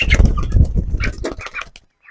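A hen being weighed on a scale on a farm, with flapping wings, scuffling and soft clucking heard close up in a short busy burst that ends abruptly in quiet.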